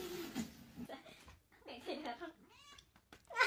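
A cat in a meme edit lets out a few drawn-out, wavering meows close up, mixed with people chatting and laughing around it.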